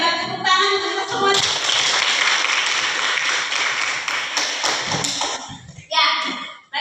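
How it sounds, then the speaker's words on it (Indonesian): Classroom applause from students, a burst of clapping lasting several seconds before a teacher's voice resumes. "tepuk tangan untuk kita semua"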